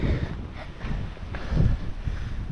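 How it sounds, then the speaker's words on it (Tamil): Wind gusts across the Rajathottam hilltop viewpoint on a rainy day, a low, rumbling buffeting against the microphone that swells and eases over a couple of seconds. "இந்த இடத்துல சூப்பராக காற்றடிக்கும்"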